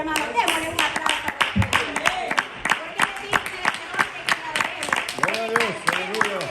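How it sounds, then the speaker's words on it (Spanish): A church congregation claps in a strong, rhythmic unison beat during an evening service, with voices calling out and cheering over the steady pulse of hands. "démosle un aplauso"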